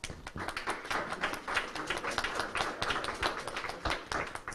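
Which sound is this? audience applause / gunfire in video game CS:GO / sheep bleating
audience applause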